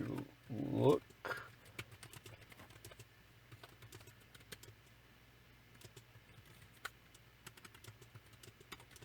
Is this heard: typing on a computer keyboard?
yes